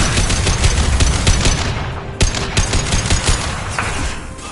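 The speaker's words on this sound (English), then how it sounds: "Firing a high-impact shot!" Dense rapid gunfire with a sharp, heavy high-impact shot rings out in Mass Effect 2, loud and close, bursts repeating over a rumbling combat backdrop with no talk.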